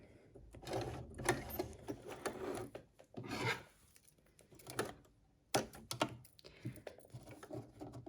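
Domestic sewing machine stitching heading tape onto curtains, a close, moderately loud run of rapid mechanical chatter in several bursts with short pauses between them, no talking.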